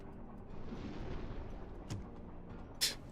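A torpedo fired from tube 1 of a U-boat in a submarine video game: a muffled, low rumbling whoosh that swells and fades over a few seconds, followed by a brief thump and a short, sharp mechanical click.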